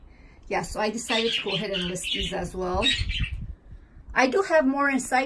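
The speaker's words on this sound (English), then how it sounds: "Sorry about the birds" Birds squawking and chirping outdoors on a patio, short calls heard mostly under a person's steady talking.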